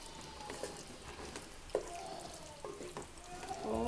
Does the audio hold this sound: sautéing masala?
yes